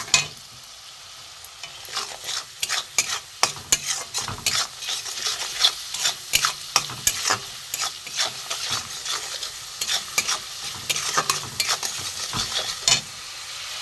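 Spices and salt are stir-fried in oil for a papaya and potato curry. Close, rhythmic spoon scrapes and clatter against the pan repeat over a continuous sizzle, with no talking.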